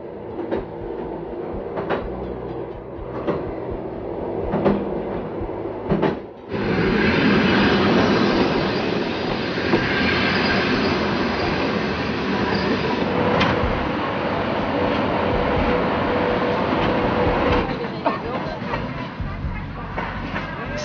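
A Trans-Siberian Railway train running on the tracks, with a loud, continuous rumble and rattle of wheels, occasional rhythmic clicks and faint squeals, and a voice speaking over it.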